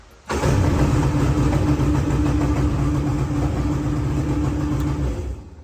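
A cheap 1999 Yamaha jet boat engine catches at once and settles into a loud, steady, rumbling idle that runs close and unbroken before cutting off near the end.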